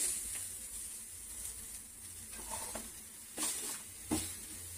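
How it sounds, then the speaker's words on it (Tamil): Ridge gourd sautéing in a pan with mashed tomato and spice powders, a low steady sizzle broken by a few brief scraping stirs of the spatula. "காய் போட்டுட்டு அதுல கொஞ்சம் மஞ்சள் பொடி, அப்புறம் இந்த சாம்பார் பொடி, ஜீரக பொடி, பெருங்காய பொடி எல்லாம் போட்டுட்டு 2 நிமிஷம் நல்லா வதக்குங்க"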